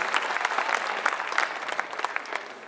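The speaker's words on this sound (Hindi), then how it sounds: "जोरदार तालियों से आमंत्रित करिए" An audience at a poetry gathering claps in a steady patter of many hands, a little distant and moderately loud, fading slightly toward the end, with no talking.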